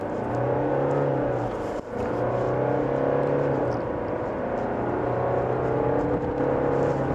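Diesel engine of a Range Rover Evoque running while driving, a steady low drone with road and tyre noise filling the cabin continuously, close and fairly loud with no talk over it.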